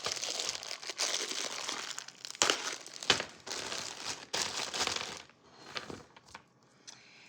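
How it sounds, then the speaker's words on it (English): Foil wrappers crinkle and crumple up close as chocolate kisses are peeled for peanut butter blossom cookies, a dense continuous rustle in bursts that thins out toward the end, with no talking. "start unwrapping these cookies, or unwrapping these chocolates"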